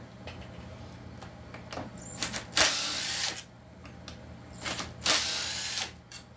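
Handle being removed from a 620 chainsaw during a teardown: scattered close mechanical clicks, scrapes and two longer loud rasping tool bursts, with no talking.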